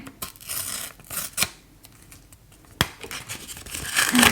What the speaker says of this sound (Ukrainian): У нас був ось цей пакетик, тепер ми маємо його відкрити.